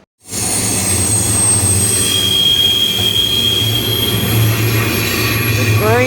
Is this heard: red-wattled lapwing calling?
no